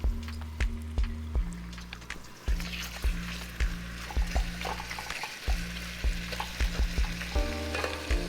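Beef for Hungarian goulash sizzling in a pot, a steady frying hiss broken by repeated knocks and scrapes of a spoon stirring the meat, close and fairly loud.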